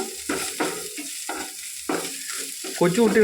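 Dense crackling sizzle of dried fish frying in very hot oil, with bursts of spattering that swell and fade, loudest near the end.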